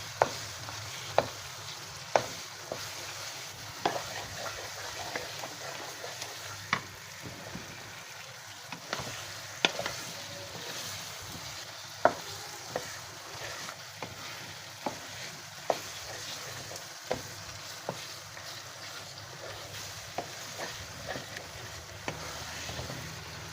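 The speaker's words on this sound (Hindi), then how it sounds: "इधर हम अपने चिकन को अच्छे से भून लेंगे" Chicken browning in a pan for angara chicken, a steady bed of frying crackle with regular sharp clacks from stirring, moderately close and with nobody talking.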